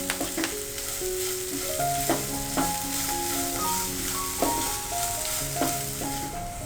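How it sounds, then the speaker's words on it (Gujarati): Onion, green chili and finely chopped ginger sautéing in a pan, a steady close sizzle with tonal spoon or utensil scrapes and clinks recurring throughout. "અને બંનેને સરસ રીતે મિક્સ કરી બધું 1 મિનિટ માટે ફરીથી સોતે કરી લઈશું."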